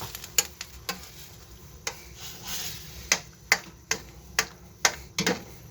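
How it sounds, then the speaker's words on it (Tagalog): A spoon stirs pork blood into dinuguan stew, producing sharp intermittent clinks and scrapes against the pot over a low simmering hiss, close and fairly quiet. "Hinalo na natin dugo."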